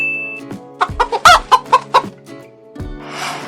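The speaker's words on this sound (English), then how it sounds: "H-E-N hen মুরগি" A hen clucks in a quick series of about seven sharp, close calls, loud and clear, followed by a softer trailing cluck and a brief rustle.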